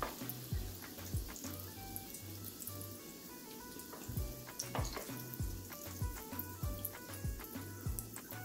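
Battered potato balls, batata vada, frying in hot oil, a steady soft sizzle and bubbling with occasional pops, while light tonal background music plays throughout.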